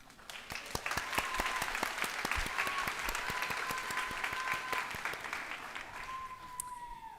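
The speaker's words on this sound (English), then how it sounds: "Please give yourselves a round of applause." Sustained audience applause fills a nursing pinning ceremony hall, many hands clapping steadily for several seconds before tapering slightly toward the end, with a faint voice or tone near the close.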